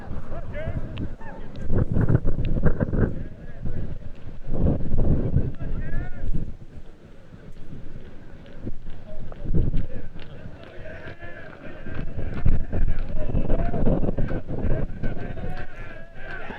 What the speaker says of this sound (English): Wind kicks up